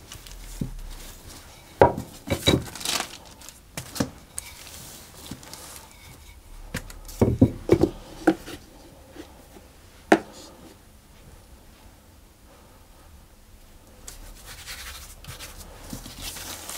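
Sweet tart pastry dough being rolled out on a work surface: soft scraping and rubbing with scattered sharp knocks and taps of the rolling pin, close up and fairly quiet, with no one speaking.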